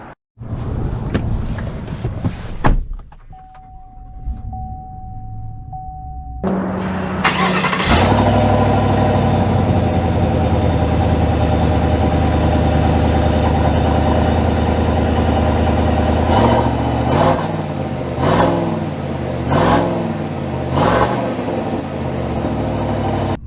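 A 2022 Chevy Silverado 1500 RST pickup's engine cranks and fires after a quiet pause, then settles into a loud, steady idle close by, with a few brief rhythmic blips near the end.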